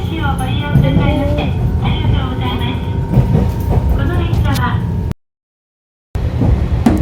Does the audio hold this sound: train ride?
yes